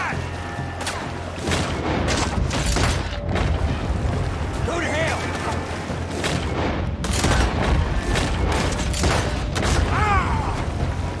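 Gunfire rings out from a canoe in Red Dead Redemption 2: sharp, loud shots crack repeatedly over dense, continuous game noise and background commotion, with someone talking throughout.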